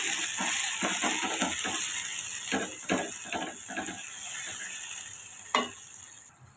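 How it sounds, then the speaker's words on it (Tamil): Ground paste and curry leaves sauté in hot oil in a pan, with a steady, close sizzling hiss. Several brief scraping knocks from stirring run through it, and the sizzle dies away at the end with no talk. "நம்ம அரைச்ச பேஸ்ட்டையும் நம்ம சேர்த்துக்குருவோம் சேர்த்துட்டு நம்ம பச்சை வாசனை வர வதக்கிக்கலாம்"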